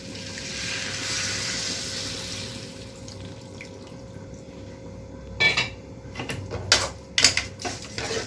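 Water is poured into a pan of chicken cooking on the stove, a soft steady hiss and trickle at first, followed by a few louder clinks and splashes of metal against the pan.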